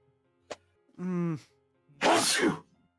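A single loud, explosive sneeze bursts out near the end. Just before it comes a short click and a brief voiced groan-like sound.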